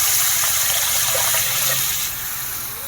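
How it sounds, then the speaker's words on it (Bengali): Cold water pours steadily into a pot of curry broth for a potol dish, a loud, close gushing splash that eases off slightly toward the end. "কিন্তু বন্ধুরা কারেন্ট নেই বলে আমি ঠান্ডা জল দিচ্ছি"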